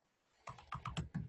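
Typing on a computer keyboard during a Python coding session: after a brief quiet, about six quick, close, clicky keystrokes in an uneven burst, with no talking.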